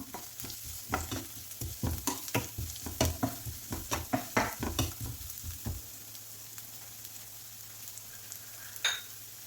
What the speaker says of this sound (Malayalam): ഒരു ചെറിയ ക്യാരറ്റ് ചെറിയ പീസായി അരിഞ്ഞു വെച്ചിട്ടുള്ളതാണ് അതുകൂടി ഇട്ട് കൊടുക്കാം എല്ലാം കൂടി ഒന്ന് വഴറ്റി കൊടുക്കാം